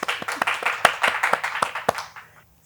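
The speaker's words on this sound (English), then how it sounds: "So please have a big applause to Sonal." A brief round of clapping from a few people, quick and uneven, fading out after a couple of seconds.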